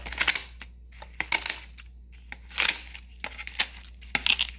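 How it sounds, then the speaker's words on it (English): Scissors snip through crunchy rendered pork skin in a series of sharp, dry crackling cuts, roughly eight close bursts separated by short quiet gaps, with no talking. "We just do the scissors"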